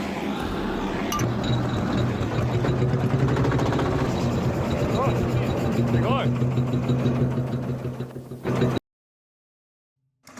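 A hot-bulb engine runs with a slow, even thup-thup beat and metallic clinks, close and steady, under a talking voice before cutting to silence near the end.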